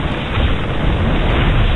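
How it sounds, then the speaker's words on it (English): In the StarCraft real-time strategy game, a Protoss gateway building is destroyed with a loud, dense explosion that roars continuously and evenly for nearly two seconds, no speech. "Gateway going down."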